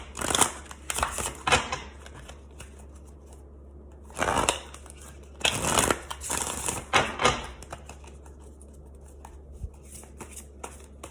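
Tarot in Wonderland cards being shuffled by hand, several bursts of riffling and sliding card stock close to the mic, separated by quieter pauses with a low steady hum underneath.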